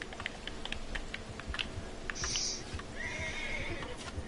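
A horse whinnies in a Western video game amid steady keyboard typing and clicking, its neigh rising briefly over the clatter before a second, longer call trails off.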